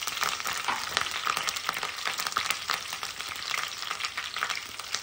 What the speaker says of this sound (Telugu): ఇలా రోస్ట్ చేసుకుందాం.